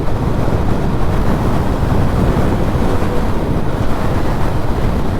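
A motorbike cruising along an open highway, heard as a steady, loud wind roar that buffets the microphone continuously, with no clear engine note standing out.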